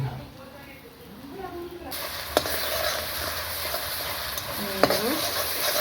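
Ginger-garlic paste tipped into frying onions for a village-style mutton curry sets off a sudden loud steady sizzle after a quiet start, with a couple of sharp utensil clicks and a voice talking faintly beneath.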